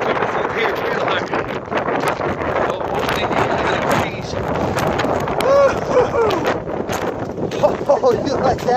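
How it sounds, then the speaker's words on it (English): Strong wind gusting along an icy winter hiking trail during a high wind advisory, a loud continuous roar buffeting the microphone close up, with a person talking over it. "It's just real windy."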